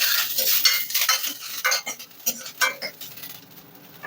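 Green chillies and curry leaves being stirred in hot oil in a pan, a spoon scraping and clinking against the metal in uneven strokes with a faint sizzle underneath, close by.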